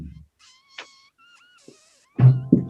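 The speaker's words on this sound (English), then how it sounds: "Gotta let the cat out of there." Several short cat meows from house cats inside a room, sounding close and fairly clear, followed by a louder thump or bump at the end.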